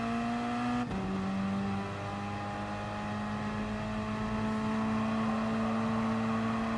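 Racing car engines from Gran Turismo Sport at Lago Maggiore West with Gr.4 cars including Ferraris and a Volkswagen: a steady droning engine whine with sustained tonal hum, a brief gear shift near the start, then constant throttle throughout.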